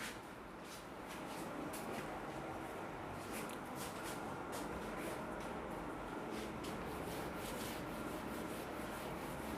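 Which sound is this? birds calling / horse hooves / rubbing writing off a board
rubbing writing off a board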